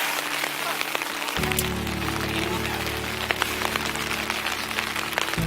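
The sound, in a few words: rain falling on hammocks while camping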